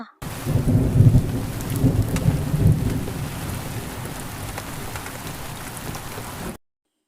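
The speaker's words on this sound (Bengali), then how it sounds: "এদিকে বৃষ্টি কমে গেল" Heavy rain pours steadily while a low thunder rumble rolls through early on, then the downpour continues alone until it cuts off.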